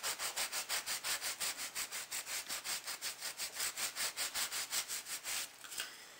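Steady rhythmic scraping of sandpaper rubbing back and forth over embossed metal foil, about four strokes per second, close and continuous, slowing near the end.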